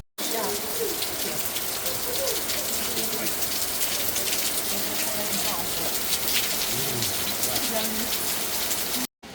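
Steady rain falls outdoors in Mallorca, a dense, continuous hiss of drops hitting surfaces close by, with faint voices and background activity underneath throughout.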